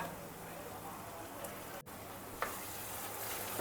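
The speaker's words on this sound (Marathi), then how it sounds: "शिमला मिरची आणि कांदा छान फ्राय करून घ्यायचे" Onion and bell pepper for pav bhaji fry in a pan over a high flame, giving a faint, even hiss punctuated by a couple of small clicks and a brief dropout.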